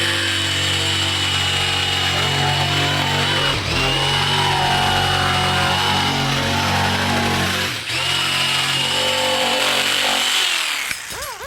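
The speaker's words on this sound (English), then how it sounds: "Probably better to have like a wood blade in it, you know, because you're going to be cutting through plastic" A power saw fitted with a wood blade cuts through plastic while trimming a spot during a rear strut brace install, a loud high-pitched whine that holds steady, dips briefly twice as the load shifts, then spins down at the end.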